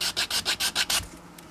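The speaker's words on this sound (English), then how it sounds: "So this will all get sanded along here, just for the file." A PETG 3D print being filed, with seven quick rhythmic rasping strokes close up, then a faint trailing scrape.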